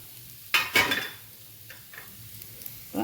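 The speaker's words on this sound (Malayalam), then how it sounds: "എന്നിട്ട് ഈ തേങ്ങയും കൂടി ഇളക്കി നന്നായിട്ടൊന്ന് ചൂടാവാനും" Grated coconut is stirred into a jackfruit stir-fry in a pan, a few distinct spatula scrapes and clinks against the pan separated by quiet gaps, with faint background sizzle.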